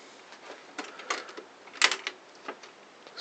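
A reassembled HP 110we printer runs with faint, irregular mechanical clicks and ticks from its feed mechanism, heard alone in a quiet room.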